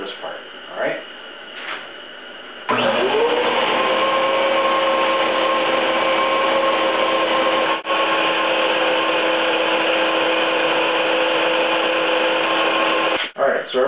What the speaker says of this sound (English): we're going to show you vacuuming this stuff up first